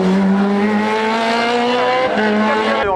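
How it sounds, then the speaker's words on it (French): A Scora race car on a hill climb course in Bagnols-Sabrans, its engine howling loud and close, pitch climbing steadily through a gear before a brief dip and a shift near the end. "Allez, Joël Casalin en piste avec la Scora."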